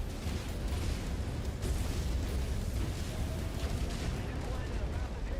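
Mech explosion in the MechWarrior 5: Mercenaries video game, heard as a dense, continuous rumbling roar of blasts and weapon fire that stays loud and steady throughout with no clear pauses.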